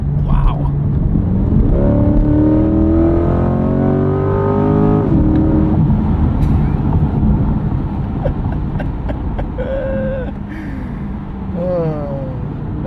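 A 2025 Chevrolet Corvette Stingray on all-season tires accelerates hard while merging onto a road, its engine note rising steadily as the revs climb and then easing off, heard loud and close from inside the car.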